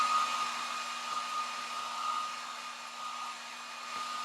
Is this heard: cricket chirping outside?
no